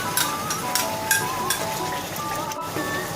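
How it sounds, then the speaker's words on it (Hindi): Three tablespoons of yogurt hit onions frying in cooking oil, and the mix sizzles steadily while a spoon stirs and scrapes against the pot in short, regular strokes. "अब इसमें हम योगर्ट ऐड करेंगे जो कि 3 टेबलस्पून थी"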